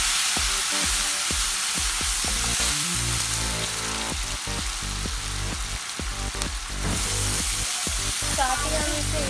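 Ginger, garlic and onion fry with green chilies and tomato paste in a pan, giving a busy sizzle mixed with repeated sharp clanks and stirring knocks, close and fairly loud throughout.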